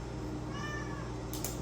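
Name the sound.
cat meowing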